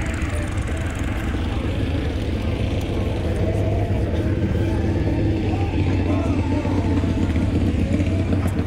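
A loud, steady drag racing car engine roar fills the whole stretch, deep and continuous with a rough rumbling texture, running close by.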